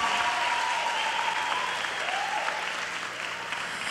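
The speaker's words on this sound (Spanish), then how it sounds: "les den un fuerte aplauso porque" Steady, full applause from a TV talent show audience, dense clapping sustained throughout with no talking over it.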